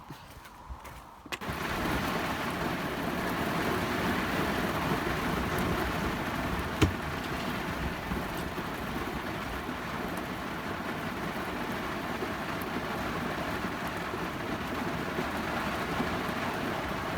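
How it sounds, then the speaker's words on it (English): Steady light rain patters down at a caravan in a garden in a continuous, even hiss with soft drops hitting a surface, fairly close, with no voices. "Just a little bit of rain."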